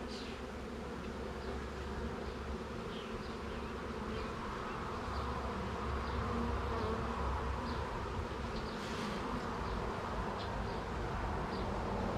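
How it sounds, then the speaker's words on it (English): Honeybees from a swarm buzz steadily inside a hive box during an inspection, a dense close hum continuing for the whole stretch with no voices over it. "she's got a really solid box of bees here to help her out"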